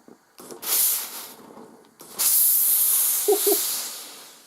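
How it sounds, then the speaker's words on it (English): A Laurastar Steamax G2 735 steam generator iron blasting steam in loud, forceful hissing bursts, a short burst, then a longer one, then a sustained powerful release, close to the listener. "that's the most powerful steam I've ever had"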